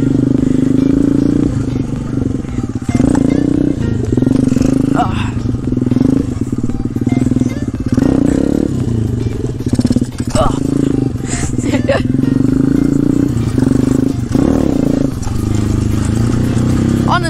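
A pit bike's small engine buzzes and revs repeatedly while being ridden, rising and dropping in loud surges up close, with a rider's voice speaking over it at times.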